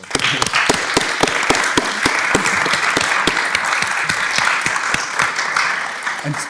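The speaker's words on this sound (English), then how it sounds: "So just a small applause for our guests." A modest audience at a press freedom day panel on investigative journalism gives its guests a brief round of applause, fairly close and loud, with individual claps standing out from a steady wash of clapping for about six seconds.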